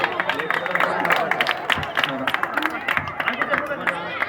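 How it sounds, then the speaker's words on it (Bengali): An audience at an evening dance prize ceremony claps and cheers in a crowded hall, with a brisk burst of applause mixed with chatter and voices. "একটা জোরে হাততালি।"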